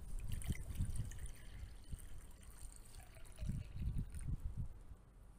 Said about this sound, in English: Gonna fill it with water.